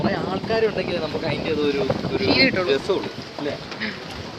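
A thirty-seat passenger boat on Pichola Lake in Rajasthan, steady wind and water noise with faint engine hum while people talk nearby throughout.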